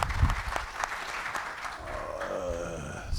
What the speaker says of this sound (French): Cette intervention mérite une salve d'applaudissements